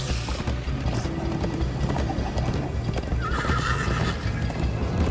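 Hooves clip-clop in a fast, galloping rhythm under a continuous game soundtrack, with a horse neighing briefly partway through, in the Minecraft: Story Mode video game.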